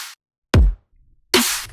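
A beginner riddim-style dubstep beat built from Tyrant pack samples: a short hissy hit, then a deep booming kick, a pause, and a bright, crisp snare crack, loud and alone.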